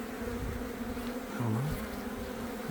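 Honey bees hum at a beehive just opened after a long winter, a steady droning buzz close by, with one bee swelling louder as it passes near.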